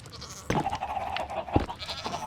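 A goat bleats in Minecraft, a couple of short harmonic calls over a quiet farm ambience, fairly close and standing alone without talk.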